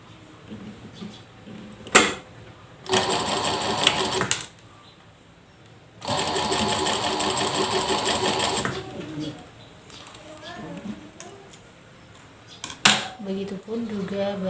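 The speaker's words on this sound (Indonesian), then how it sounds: "Kita jahit bagian samping." A sewing machine stitches the side seam of a toddler's garment in two loud sustained runs separated by pauses, with a voice speaking in the gaps.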